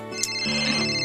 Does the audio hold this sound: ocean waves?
no